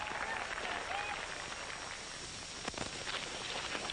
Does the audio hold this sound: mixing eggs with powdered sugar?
no